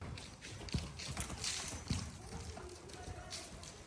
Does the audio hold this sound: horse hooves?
yes